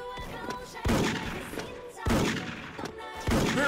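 Gunfire in the Special Force video game: three heavy, sharp shot bursts land roughly a second apart, each echoing briefly before fading, loud and close.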